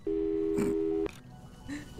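A phone busy signal in the video game Portal 2 gives one steady tone for about a second, then stops and leaves quiet background with a faint later sound.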